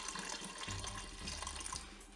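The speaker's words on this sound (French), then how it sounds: "Je vais ajouter un petit peu d'eau également." A little water poured into a Cookeo multicooker pot while cooking Toulouse sausages, a soft continuous trickle and splash over a low background hum, close and fairly quiet.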